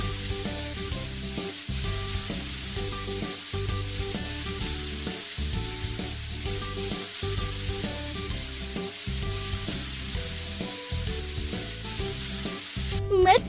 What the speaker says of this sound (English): Move the spray over to the car to paint it.